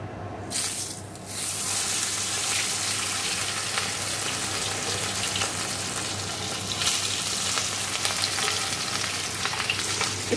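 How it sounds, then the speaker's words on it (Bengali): Fish frying in a pan sizzles continuously and closely, a broad hissing crackle that starts abruptly after a short pause and holds steady for about ten seconds, with no voices. "তো চলো দেখতে, মাছগুলো ভেজে নেবো।"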